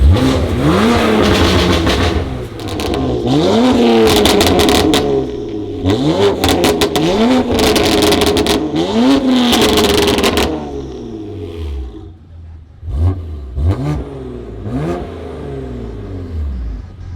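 A loud BMW M2 Competition exhaust revs repeatedly, rising and falling in sharp sweeps, then settles into a rumbling idle with a few short blips.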